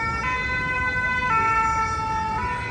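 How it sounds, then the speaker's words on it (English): Emergency vehicle siren on a Paris street, a steady wailing tone with rising pitch steps, loud and close over continuous traffic rumble, no talking. "I love the emergency sounds because it reminds me of Madeline"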